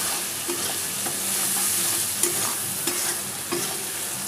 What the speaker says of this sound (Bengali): এবার মশলাটাকে খুব ভালো করে কষাতে হবে।